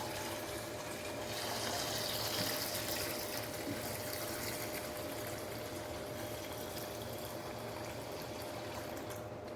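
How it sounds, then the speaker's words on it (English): Tap water runs steadily into a pot holding eggs, a continuous broadband rushing pour that swells slightly early on and then holds even, heard close up with no talking. "We're gonna fill them up with tap water"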